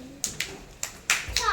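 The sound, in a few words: children clapping hands in class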